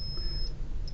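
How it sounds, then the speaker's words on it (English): A thin, steady electronic tone from a continuity tester checking a circuit trace on a KIM-1 clone board sounds twice in quick succession, faint, over a broad background hiss. "I don't know if you can hear that beeping sound, but that's telling me that the trace works"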